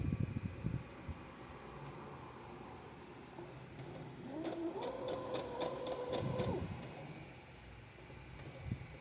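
A domestic sewing machine hums and chatters in a short run while backstitching a zipper seam, the motor tone steady for a couple of seconds amid quiet room noise.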